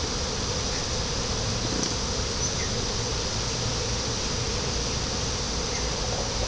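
A honeybee swarm buzzes steadily around the brood boxes of two hives outdoors, a dense, continuous drone with no talk over it.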